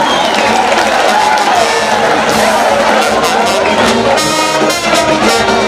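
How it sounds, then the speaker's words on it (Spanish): A dense, loud crowd roars, cheers and claps continuously at a traditional bullfighting fiesta in Picoy, Santa Rosa de Yarayacu. Whoops and shouts rise over the sustained applause, with voices mixed into the din. "¡Los aplausos, por favor!"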